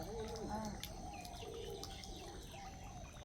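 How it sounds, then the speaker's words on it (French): Faint pigeon coos and soft bird chirps over a steady wash of fountain water splashing at a temple site in Kataragama, with low murmuring in the background. "Avec effectivement les pigeons qui viennent boire un peu."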